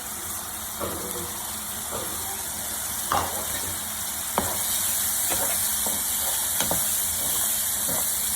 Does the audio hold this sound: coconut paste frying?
yes